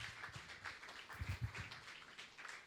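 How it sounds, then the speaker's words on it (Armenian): A church congregation claps together in warm, sustained applause, a dense patter of many hands at moderate distance with no voices over it. "Աստծուն ծափահարենք մեր եղբոր եւ քրոջ համար"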